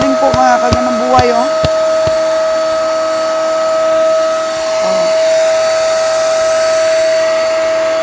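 Vacuum pump sucking air out of a bag of napier grass silage: a loud, steady whining drone with a high tonal hum, a few clicks and squeaks from handling at the start, and a voice heard over it.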